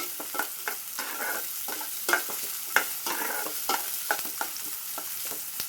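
Onions fry in a pan toward browning, a constant close sizzle punctuated by frequent irregular clicks and scrapes of a spoon stirring, with no one talking.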